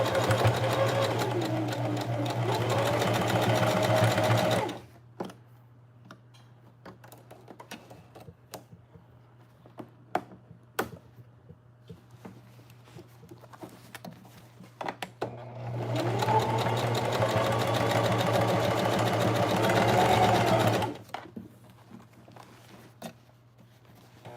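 A sewing machine runs over denim jeans being remade into a jacket, in two separate bursts of steady, fast stitching of about five seconds each, with quiet handling and clicks in the pause between them.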